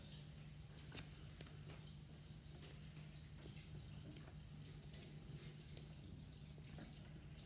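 Water runs steadily from a tap as hands are wetted, a faint, continuous splashing hiss with a few small drips and squishy touches, with no talking.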